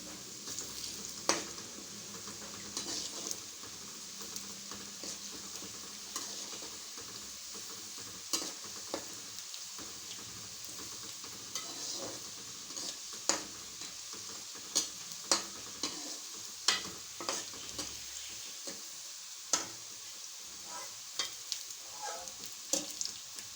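Onions fry and brown in a pan for beef keema pulao, giving a faint, steady sizzle broken by scattered sharp clicks and scrapes of a spoon against the pan.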